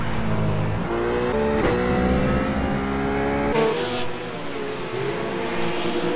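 RUF race car in iRacing at Interlagos, held flat out in 4th gear through a corner, its engine droning loud and steady with rising and falling pitch and gear changes, no talk.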